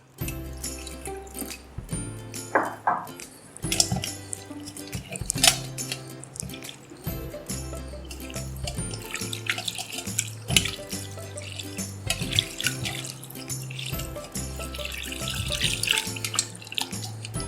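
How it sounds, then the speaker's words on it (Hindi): Fresh chhena being rinsed under running tap water in a strainer, a close, continuous splashing rush with drips and uneven surges of flow, heard alone without talk. "उसे साफ पानी से इसको धो लीजिए आप, ताकि इसके अंदर से सारा नींबू का अरक निकल जाए"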